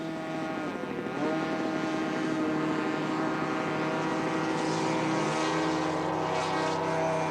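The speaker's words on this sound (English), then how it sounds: "All the premier pilots of the sport attend this event and are always eager to put their planes through a variety of aerobatic maneuvers." A radio-controlled model airplane flies aerobatic maneuvers at a 1987 air show, its engine a loud, steady buzzing drone whose pitch rises and falls as it swoops and turns, with no talking.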